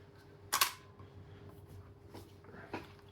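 An air gun fires pellets at a small outdoor garden range, one sharp close crack followed by two fainter snaps or clicks against quiet background hum.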